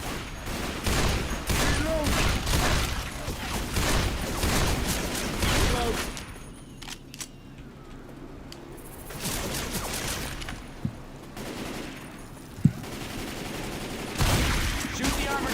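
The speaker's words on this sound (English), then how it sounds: "Shoot the armored zombies in the back." Gunfire from shooting zombies in Left 4 Dead 2: dense, continuous bursts of automatic fire, loud and close, that ease off in the middle and then return, with a sharp single bang near the end.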